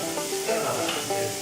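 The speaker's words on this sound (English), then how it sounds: "I'll put the garlic in as well. You don't want the garlic to burn." Garlic and finely chopped tomatoes frying in a pan for a beef casserole, giving a steady close sizzle with a few soft stirring scrapes throughout, and no voices.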